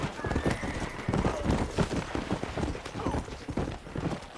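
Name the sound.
horse hooves and neighing in video game Red Dead Redemption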